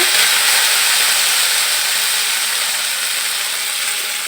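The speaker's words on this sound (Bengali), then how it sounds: "শুকনো মরিচ একটু তেলে নিব।" Dried red chillies fry in hot oil in a kadai, giving a loud, close, continuous sizzling hiss that eases slightly toward the end, with no talking.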